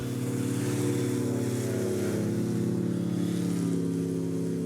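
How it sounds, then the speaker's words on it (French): Motorboat engine running steadily and loudly, a constant droning hum with no pauses, as the boat pulls away across vegetation-covered Louisiana bayou water. "Kevin a finalement réussi à relancer le moteur et le bateau repart."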